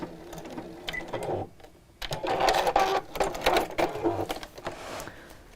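A sewing machine stitches straight across the corners of a zipped fabric pouch in short, close bursts with a brief pause between runs, its whirring mixed with clicks and handling noises.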